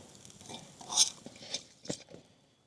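Utensil scraping and clinking as a cheesy pie iron dish is scooped onto a plate at a lakeside campsite, a few short close taps and scrapes, fairly soft, no talk.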